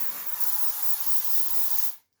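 A voice imitates a pepper spray hiss with a long, steady, breathy spraying sound lasting about two seconds, close and alone, cutting off abruptly at the end.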